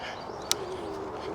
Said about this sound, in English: definitely can hear those birds though.